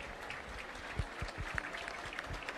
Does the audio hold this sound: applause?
yes